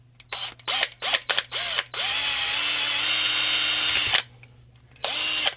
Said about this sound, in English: this one we are just going to drill out by hand